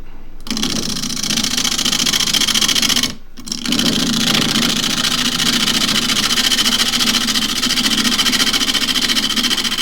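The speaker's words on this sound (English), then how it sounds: "So 1/2" spindle gouge. It's my normal roughing down tool." A woodturning lathe roughing a Himalayan cedar bowl blank with a 1/2-inch spindle gouge: a steady loud whirring hum with a constant buzzing drone, cutting out briefly for about half a second partway through, then resuming without talk.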